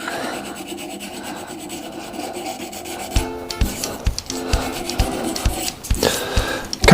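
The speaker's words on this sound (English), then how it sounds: "we've still got a bit of sanding to go yet" Sanding a multi-coloured resin shaving brush blank spinning on a lathe, a soft continuous rasp that turns into louder, rhythmic scraping strokes in the second half, with no talk.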